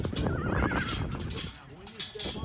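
A mustang whinnies loudly in a wavering call while hooves clop on the ground during groundwork at a horse event, with a voice speaking quietly underneath.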